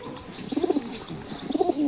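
Pigeons cooing nearby in a loft, two short bursts of soft throaty coos in quick succession.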